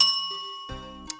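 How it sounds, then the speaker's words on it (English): A single bright notification bell ding rings out clearly at the end, preceded by fading electronic tones and a short buzzy chime, crisp and close with no voices. "ring that notification bell."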